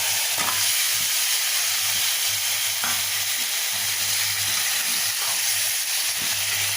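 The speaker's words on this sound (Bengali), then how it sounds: "এবার মাংসগুলো দিয়ে কষিয়ে নিয়েছি" Chicken pieces with spices fry in a wok, giving a loud, continuous hissing sizzle that holds steady throughout, with a few faint stirring scrapes.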